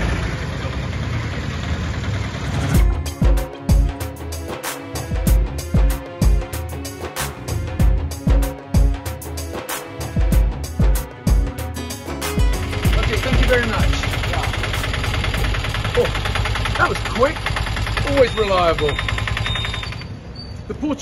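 A tuk-tuk ride through Fort Kochi: a small engine putters in a rapid, rattling rhythm close by, then settles into a steadier drone with traffic noise, and voices talk over it.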